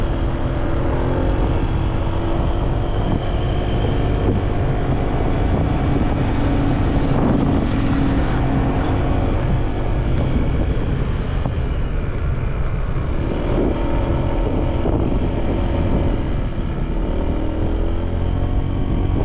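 Steady motorcycle engine drone with wind rush while riding up Sungay Road in Cavite, continuous and loud throughout with no talking.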